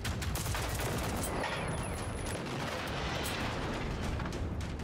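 Video game gunfire rattles in continuous rapid volleys through a dense, booming battle wash, fairly faint and steady over five seconds with no one speaking.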